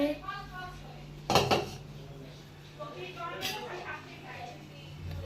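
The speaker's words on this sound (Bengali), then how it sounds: "দিদা এদিকে বাসন ধুচ্ছে" A grandmother washes dishes, with pots, plates and cutlery clattering close by in a sharp clash and then lighter scattered clinks, under ongoing talk.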